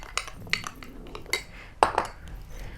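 A spoon mixes a yogurt face mask in a bowl, making several sharp clinks and taps spread over a few seconds, close and fairly quiet.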